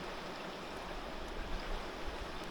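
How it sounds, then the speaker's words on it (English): Fast-moving, murky stream water rushing steadily, a continuous broadband wash with no pauses and no voices. "I don't think I'd be having much luck with the water moving this fast."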